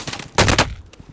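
Quick burst of gunfire in Call of Duty Warzone, loud and close, several rapid shots packed into about a quarter second.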